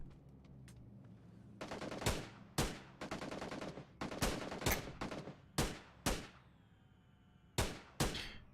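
Loud, sharp gunshots from a New State Mobile esports match, fired in irregular bursts and single cracks, some in quick succession, with pauses between volleys and no talk.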